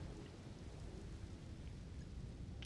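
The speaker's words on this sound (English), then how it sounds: "That's so cool that it's raining." Steady, dense rain pours down with a low stormy rumble in the video game Elden Ring, loud and continuous with no voices.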